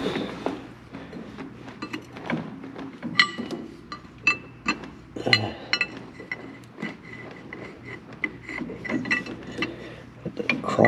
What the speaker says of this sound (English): let me see that wrench